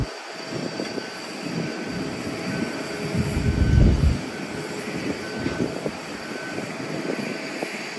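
A passenger jet taking off or landing at Haneda Airport near Terminal 3, heard as a steady broadband roar that swells to a peak midway and then eases off, with no talking.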